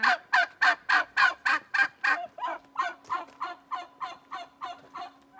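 A turkey gobbling in repeated rapid bursts, about a dozen loud close calls in steady rhythm, fading slightly toward the end, with no talk.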